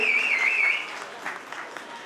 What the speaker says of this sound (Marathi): सगळ्या म्युझिशियनसाठी जोरदार टाळ्या